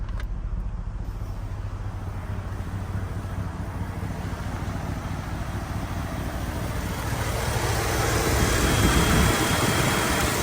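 Electric radiator fans on a Chevrolet Tahoe with an electric-fan conversion run on low speed at operating temperature, a steady broadband whoosh over the idling engine's low rumble that swells louder near the end, with no talk.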